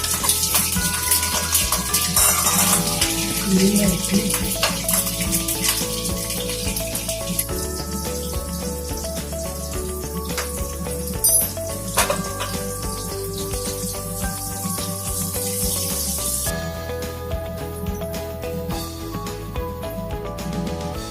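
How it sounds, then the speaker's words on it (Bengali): Potatoes fry in oil for a mutton curry made in a pressure cooker. A continuous, bright crackling hiss runs throughout, fairly close and steady, with small pops and spatters. No voices are heard. "বেরেস্তা আলুগুলোকে ভেজে নিতে হবে।"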